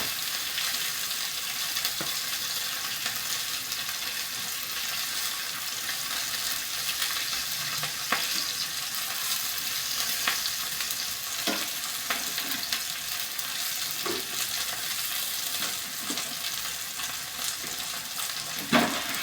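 Onion and green chillies frying in oil make a dense, steady sizzle close up, broken by occasional scraping strokes of a stirring spoon against the pan.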